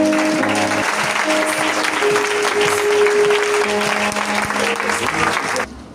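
A church congregation applauds the word of God in a dense, sustained burst of clapping with musical tones sounding beneath it, the applause cutting off abruptly near the end.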